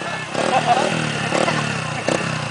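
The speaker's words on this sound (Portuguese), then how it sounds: "Eu acelerei a moto" A motorcycle engine revs on a dirt trail in short bursts, loud and close over a rough running drone, with voices heard alongside.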